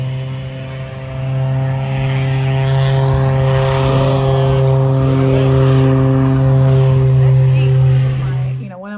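A propeller airplane engine drones loudly and steadily nearby, a constant low buzzing hum with a faint voice underneath.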